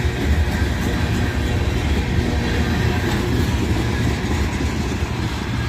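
A freight train of tank cars, including sodium hydroxide and molten sulfur tankers, rolls past at Abbeville, its steady loud rumble of wheels and wagons filling the air up close without a break.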